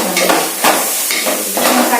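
Onion and green chillies added to frying beef roast in a pan, loud dense sizzling with rhythmic stirring sweeps rising and falling about every half second.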